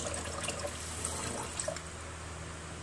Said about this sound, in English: I will use it to turn off the faucet so that I will not contaminate my hands again